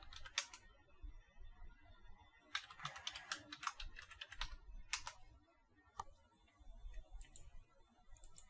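A password being typed on a computer keyboard as quiet, close key clicks in short irregular clusters over a faint low background hum, with no speech.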